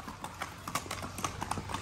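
Horse hooves clip-clop on pavement in a brisk, steady rhythm during a horseback ride, close and clear over a light background murmur.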